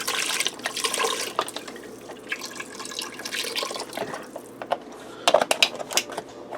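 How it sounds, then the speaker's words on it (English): Chicken broth pours and splashes into an Instant Pot in uneven gushes, with a few clinks and drips toward the end, close and fairly quiet. "I'm going to add in 3 cups of chicken broth."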